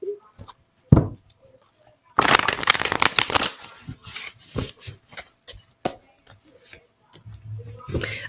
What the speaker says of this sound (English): Gonna shuffle one more time and then call it quits.